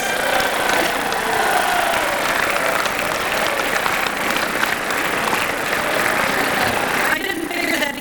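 Loud, dense applause from a large crowd at a formal dinner, the White House Correspondents' Dinner, many hands clapping continuously and evenly for several seconds before tapering slightly at the end.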